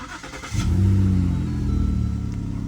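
A 2013-2016 Lincoln MKS 3.7L V6 engine cranks and catches, then settles into a steady, close idle with a low rumble.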